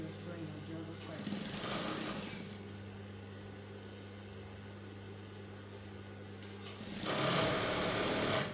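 A sewing machine stitches fabric for a v-neck shift dress, its steady mechanical hum running for several seconds and swelling louder near the end, with background noise throughout.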